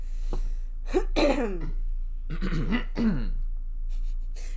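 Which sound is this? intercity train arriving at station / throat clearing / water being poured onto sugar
throat clearing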